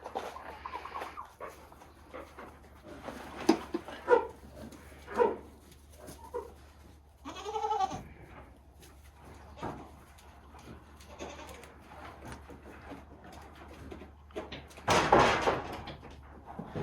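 Goats bleat several times during hoof trimming, loud nearby cries scattered between quieter stretches of shuffling and handling noise, with one especially loud bleat near the end.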